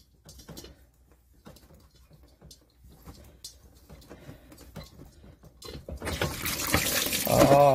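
Excess water drains from an unscrewed thermal expansion tank on a home HVAC system into a tub, starting as faint drips and patter and swelling into a steady, close rushing pour near the end.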